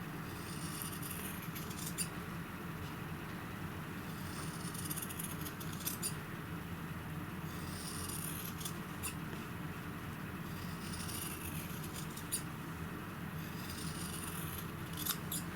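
Scissors trimming fabric for a Kimberbell Blossom pin cushion, with quiet, close cutting snips and rubbing that come in small clusters every few seconds over a steady low background hum.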